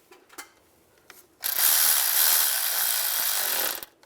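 A ratchet snugs up intake manifold bolts on a 2007-2013 Chevrolet Silverado 1500, a close rapid clicking burst lasting a couple of seconds after a few faint taps, with no talk.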